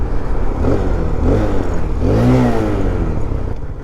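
A small Grom-clone motorcycle engine (2026) revs up and down, rising and falling whines in a few swells, loud and close with no speech.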